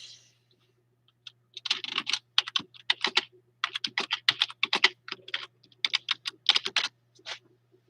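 Bursts of clicky keystrokes on a computer keyboard, typed in irregular quick runs with short pauses, close and fairly quiet over a faint steady hum.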